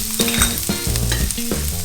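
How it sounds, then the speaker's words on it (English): Diced pepper, pre-chopped ginger and garlic fry in a pot for a one-pot sweet potato curry, a steady close sizzle broken by several loud stirring scrapes. "The diced pepper. Our pre-chopped ginger and our garlic. We'll just get that all fried."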